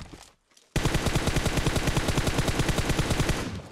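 Rapid sustained automatic gunfire in the video game PUBG Mobile, destroying a vehicle, loud and close, firing in a steady rhythm for about three seconds after a brief quiet moment.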